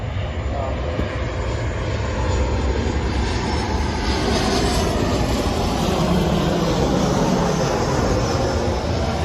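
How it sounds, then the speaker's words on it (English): Airplanes flying over an outdoor baseball camp field, a loud steady roaring engine drone that fills the whole stretch without letting up, no talk heard over it. "because I don't talk as loud as Bo, I probably will stop when the planes fly over."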